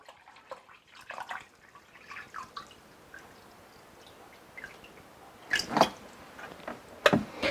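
Water splashes and trickles into a silicone measuring cup in short bursts, with soft handling clatter and a couple of louder pours near the end.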